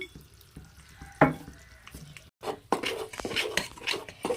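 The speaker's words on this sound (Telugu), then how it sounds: "పిండి పాకంలో వేసి కలుపుకుంటున్నామండి" Sesame-seed flour stirred into hot sugar syrup for sesame laddus, a spoon scraping and clinking against the pan with soft sizzling, close and busy, louder in the second half after a brief pause.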